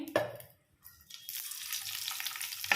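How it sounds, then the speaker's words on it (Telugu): Green chillies, coriander seeds and cumin going into a pan on the stove: a clinking drop, a brief lull, then a steady soft sizzle of frying that carries on close and even. "స్టవ్ మీద ఒక ప్యాన్ పెట్టుకొని అందులో పచ్చిమిర్చి ధనియాలు జీరా వేసుకొని"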